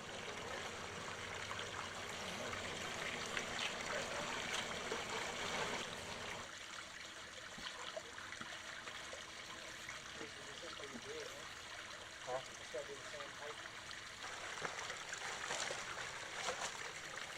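Water trickles and splashes steadily through a newly built backyard water-garden stream, a continuous close babble with faint voices in the background.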